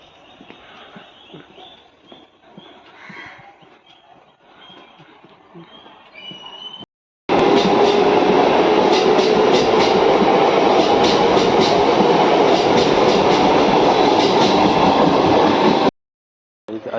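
A loud, steady rumble and rattle of a train rolling past close by, filling most of the clip, after a quieter stretch of background noise, on the Mumbai route toward Bhayandar.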